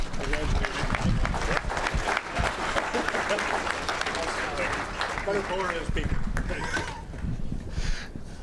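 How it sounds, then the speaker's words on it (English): A crowd at an awards banquet applauds loudly and continuously, dense clapping mixed with cheers and voices from a large gathering. "let's give him a great round of applause"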